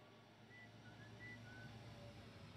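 A faint, brief whistled tune from a non-player character in the video game Honkai: Star Rail plays a few short notes over quiet background ambience, with no talking.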